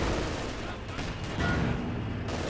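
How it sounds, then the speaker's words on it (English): A Panzerwerfer rocket artillery strike in Company of Heroes 2, heard as a dense, muffled rumble of overlapping distant blasts, fairly quiet and continuous, with a slightly heavier burst midway. "And there we go, artillery strike here."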